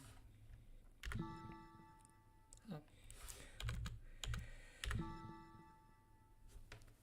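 Keystrokes on a computer keyboard clatter in short bursts with gaps between them, close and fairly quiet, while a voice talks over them.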